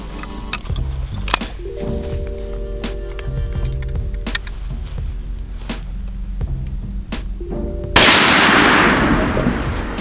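A Winchester Model 37a shotgun fires a single loud, booming blast at a pot near the end, following several seconds of scattered clicks and handling knocks. The blast trails off in a decaying roar.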